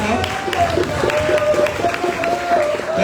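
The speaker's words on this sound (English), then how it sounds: "Let's give Gloria a big hand of applause." Audience members at an ANC Youth Congress national retreat in Liberia applaud for Gloria, giving steady, fairly loud clapping with a crowd murmur and a sustained tone beneath it.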